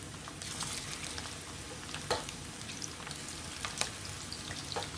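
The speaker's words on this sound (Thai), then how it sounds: "ค่อยๆทอดไปจนกว่าเขาจะเหลืองนะคะ" Hot oil sizzles and crackles steadily as skin-on chicken fries, with sharp pops and spatters breaking through now and then. No voices.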